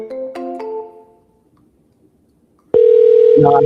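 A telephone call plays its tones close and loud: a couple of short chiming beeps, a pause of near silence, then a steady ringback tone that holds to the end.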